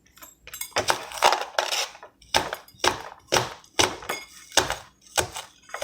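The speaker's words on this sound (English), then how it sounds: "But now I'm dicing up onion." A knife dices onion on a cutting board with sharp, evenly spaced chops, roughly two per second. The strikes are close and crisp, with no talking.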